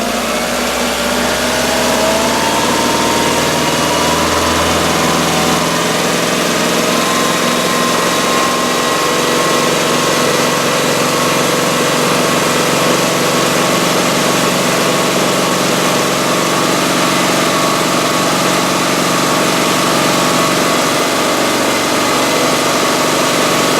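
A car engine held at raised RPM during an exhaust restriction check, a steady sustained drone with a constant pitch and no pauses, loud and close, with no talk over it.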